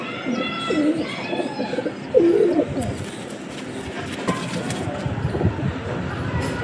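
A Kalanka pigeon pair cooing close by, with repeated throaty coos in short bursts over steady background noise.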